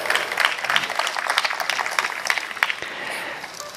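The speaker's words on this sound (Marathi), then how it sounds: "आपण जोरदार टाळ्या वाजूया" An audience at a lecture-series event applauds in a dense burst of clapping that fades toward the end, fairly close and without speech.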